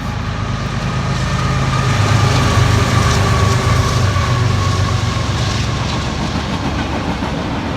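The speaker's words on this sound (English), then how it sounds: "oh, look at this train's coming" A train rolls past close by with a loud, steady rumble and a rhythmic clickety-clack of the wagons that holds level for several seconds.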